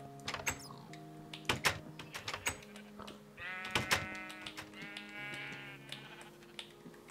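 Minecraft sheep bleat several times in short, wavering cries, mixed with sharp clicks and taps of keyboard typing, all fairly quiet with no talk.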